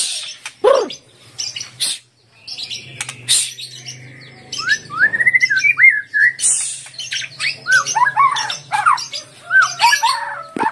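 Several birds chirp and tweet, with bright warbling phrases building into a busy songbird chorus alongside scattered clicks and rustles.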